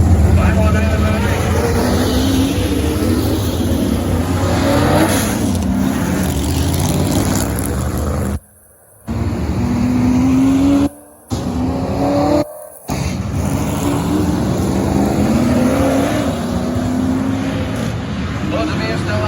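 Pro trucks race at Crystal Motor Speedway, engines roaring loudly with rising and falling revs as they pass, while an announcer talks over the noise and the sound briefly cuts out several times.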